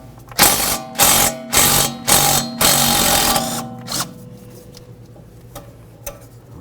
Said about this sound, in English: We'll use a 13mm to remove that bolt.